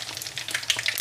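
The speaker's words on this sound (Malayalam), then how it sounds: "ഇനി നമുക്ക് കടുക് ഇട്ട് കൊടുക്കാം." Mustard seeds crackle and sizzle in hot oil for a cherry pickle, a short burst of sharp popping and frying hiss, close and alone.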